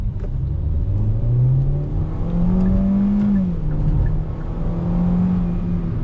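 A Hyundai Bayon with a naturally aspirated 1.4 engine and torque-converter automatic accelerates on the road. The engine note climbs steadily and evenly, loud and close from inside the cabin, with a constant road roar underneath.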